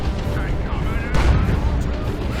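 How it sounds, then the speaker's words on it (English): Looted tank cannon firing in a Warhammer 40,000 strategy game, a heavy booming blast amid ongoing battle rumble, one strong shot standing out midway over the dense, loud game mix. "Look at the burst damage from the looted tank. It has the slowest firing cannon"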